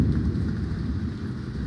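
Heavy rain pours down during a thunderstorm, heard from inside a storm chaser car as a dense, steady low roar with a deep rumbling undertone and no talking.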